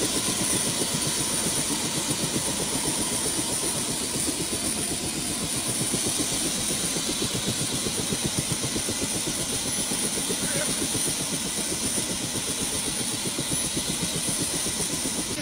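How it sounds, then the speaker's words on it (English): A helicopter that has just landed with a load of supplies idles steadily and loudly, a continuous rotor and engine drone with a rapid pulsing throb that holds unbroken throughout. "we've got a helicopter that just landed with supplies"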